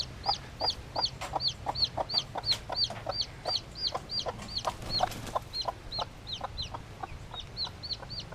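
A chicken clucks repeatedly in a fast, steady rhythm, close and fairly loud, with short bursts continuing throughout.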